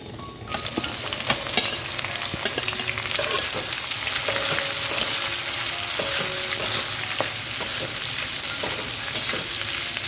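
Chopped onion sizzling loudly in hot spice paste for a mutton potato curry, with a steady close frying hiss and frequent spatula scrapes and stirs against the pan throughout.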